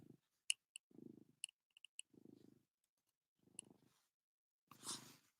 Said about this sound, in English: Maybe you can hear him purr.